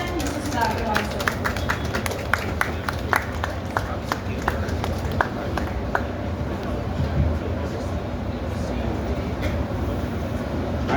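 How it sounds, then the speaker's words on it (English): Audience clapping for Mr. Sudhakar at an event, a steady wash of many hands applauding continuously, with a few sharper individual claps standing out and some voices underneath. "So let's give a huge round of applause for none other than Mr. Sudhakar."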